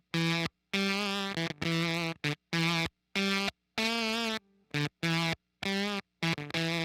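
An electric guitar through an Electro-Harmonix Germanium 4 Big Muff Pi fuzz pedal plays heavily fuzzed, buzzy notes in short, choppy bursts separated by abrupt silences, loud and close.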